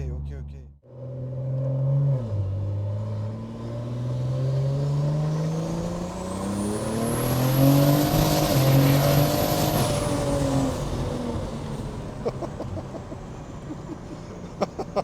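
A heavily tuned BMW M140i making about 1600 hp accelerates hard, its engine note climbing through rising pitch sweeps with gear changes, close and loud, before easing off near the end.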